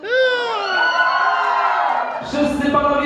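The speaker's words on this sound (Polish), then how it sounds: "uwaga, wszystkie panie piszczą!" Women at a wedding reception let out a long, loud chorus of high-pitched squeals that sweep and waver together, followed by a burst of mixed crowd shrieks and cheering.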